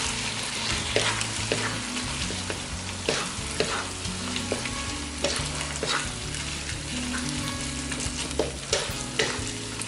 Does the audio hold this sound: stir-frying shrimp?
yes